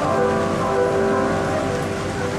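Steady rain patters on a surface in Saint-Mathieu-sur-Loire, a dense continuous hiss with a faint tonal hum in the background.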